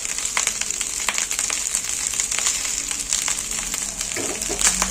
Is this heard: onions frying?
yes